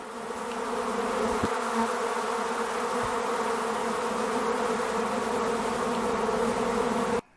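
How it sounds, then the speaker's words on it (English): Dense, loud and continuous buzzing of a great many bees swarming around open beehives fills the air without a break, close by and unchanging until it cuts off at the end. "there's a lot of bees, a lot of bees about here."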